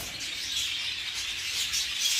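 Breeding lovebirds in an aviary cage chirp in rapid, high, overlapping tweets, a continuous busy twittering at moderate loudness without speech.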